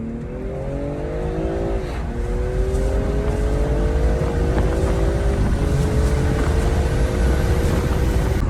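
A BMW M340i engine with a limited-slip differential revs up loudly, pitch climbing through gear shifts as it accelerates, heard from inside with a steady roar underneath.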